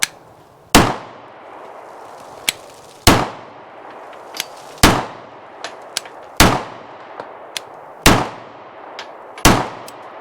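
A Wilson Combat ULC Sentinel 1911 pistol fires about seven loud, sharp shots at irregular intervals, each decaying quickly, with faint clinks of casings between shots and no talk.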